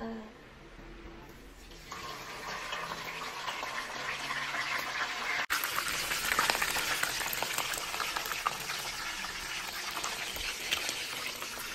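Lapu-lapu fish cooking in a pan outdoors, a steady broadband sizzle that swells after a sharp knock midway and stays loud and close to the end.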